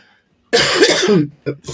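A sharp, harsh cough close up, followed by two shorter coughs, during a livestreamed lottery draw.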